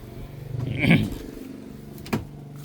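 A 1995 Isuzu TFR pickup with a manual gearbox idles with a steady low rumble, then its engine is blipped twice: a stronger rev near the start and a short second one later, heard up close.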